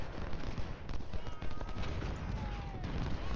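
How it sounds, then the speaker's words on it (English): Repeater rifles fire in rapid, overlapping volleys in Ultimate General Civil War, a dense crackling barrage of shots that keeps going without pause under a muffled, low-rumbling mix. "Do these repeaters ever reload?"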